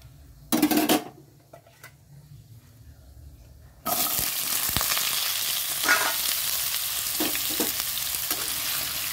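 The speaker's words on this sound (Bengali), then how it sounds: "আলুটা ভাজা করব" Potatoes tipped into hot oil tempered with fenugreek and dried chilli, giving a brief spatter early on, then a loud, steady, close sizzle of frying that continues to the end with occasional stirring clicks.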